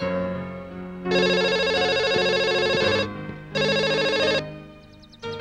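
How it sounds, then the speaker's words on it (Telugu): A telephone rings loudly in two long electronic bursts with a pause between, followed by a brief chirp as it stops. "1 minute, షాలికి ఫోన్ చేస్తాను."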